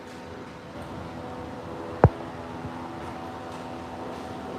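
A steady low hum of a fan running in a spare-room machine shop, with a single sharp click partway through.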